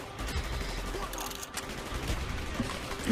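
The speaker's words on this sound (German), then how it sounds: "Schieß ich da mal noch rein." Call of Duty Black Ops gunfire, a dense, continuous rattle of shots and battle noise throughout, loud and close.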